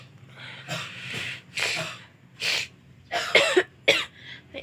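A person coughs several times in a row with short pauses between them. The coughs are close and moderately loud, each a rough breathy burst, and no speech is heard.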